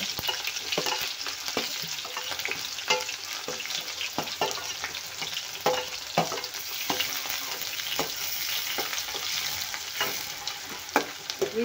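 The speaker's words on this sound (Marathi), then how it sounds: "मिरची आणि कांदा छान लाल होईपर्यंत आपल्याला भाजून घ्यायचे" Chili and onion frying with cumin in a pan for a vegetable curry, an even loud sizzle broken by rhythmic scraping strokes of a spoon, close by and with no one talking.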